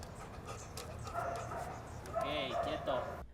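A trained anti-narcotics detection dog, one of several brought in from abroad, barks, yips and pants nearby, with people talking over it.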